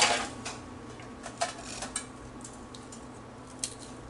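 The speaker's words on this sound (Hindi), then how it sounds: "तो इसको मैं अगर तोड़ूं तो आप इसकी आवाज़ सुन सकते हैं कि किस कदर क्रिस्पी है।" Crispy baked cake rusk snapped apart by hand, a few faint, sharp crackles and crumbly snaps scattered over a quiet room background.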